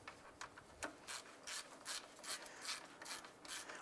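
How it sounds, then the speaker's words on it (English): A ratchet snugs down the fan shroud bolts on a 2001-2005 Honda Civic, a close, quiet run of rapid clicking bursts repeating in a steady back-and-forth rhythm. "let's go ahead and snug those down"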